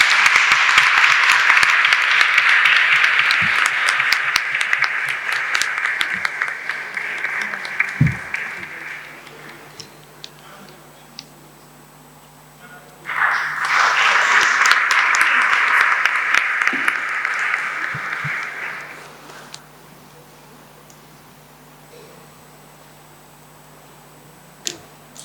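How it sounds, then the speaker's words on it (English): A crowd claps warmly at an International Women's Day celebration in a courtroom setting, a long burst of sustained applause that fades, a pause, then a second strong round that dies away. "Can I have a big round of applause as well,"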